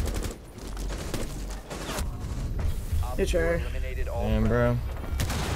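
Gunfire in Rainbow Six Siege, with a fast burst of rapid shots early on, then scattered shots mixed with game sounds, while a player talks over the action.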